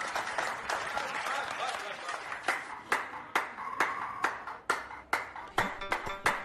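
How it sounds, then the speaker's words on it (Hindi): Scattered hand clapping in support of doctors and police: a run of sharp, uneven claps of moderate loudness, with some voices in the background. "ताली बजाइए सबके लिए"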